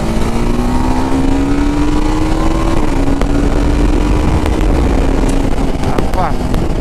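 TVS Apache RR310 with a quick shifter, its engine droning loudly as the pitch climbs, drops sharply at a gear change near the middle, then climbs again, heard close while riding.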